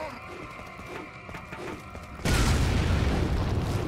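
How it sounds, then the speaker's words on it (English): A grenade and an explosive barrel detonate together in Resident Evil 4, a sudden loud blast that jumps in from quieter game sounds and holds as a dense, roaring rumble to the end. "That was a grenade exploding and a barrel at the same time"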